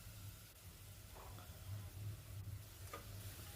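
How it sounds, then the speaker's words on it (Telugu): Coconut, ginger and green chili paste frying in a pan, a steady low sizzle with faint stirring scrapes, continuous and close, with no talking. "వేసిన తర్వాత మనం అది కూడా అంతే సేమ్ పచ్చివాసన పోయేదాకా బాగా ఫ్రై చేయాలండి"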